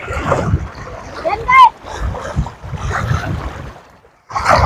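Strong river current rushing with waves during a riverside picnic outing, a constant churning wash of water heard close up while people talk and shout over it, the noise dropping briefly before surging back.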